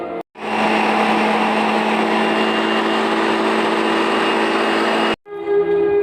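An electric chopper running for about five seconds while cutting tomatoes into small pieces for pickle, a loud steady motor whir that starts and stops abruptly.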